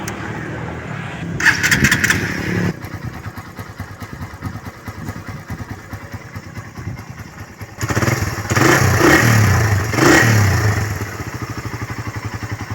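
A carbureted Honda Raider 150 motorcycle is started, settling into a rough idle before being revved twice in quick bursts; the engine sounds close, loud and runs alone with no talking.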